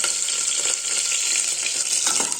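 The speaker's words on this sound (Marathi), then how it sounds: "आता आपण त्यात जिरं घालू आणि कापलेली फ्लावर आणि थोडा कढीपत्ता." Cumin seeds, chopped cauliflower and curry leaves fry in oil that has popped mustard seeds, making a loud, dense and continuous sizzle heard up close without any pause.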